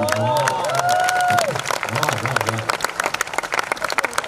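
An audience in Udaipur gives a burst of applause, dense clapping that thins out into scattered claps, with a voice speaking over the start.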